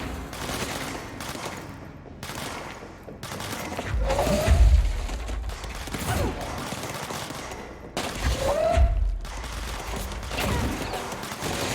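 Gunfire in the video game Control comes in repeated bursts of rapid shots and heavy impacts, loud and dense across the whole stretch, with layered game effects and whooshes.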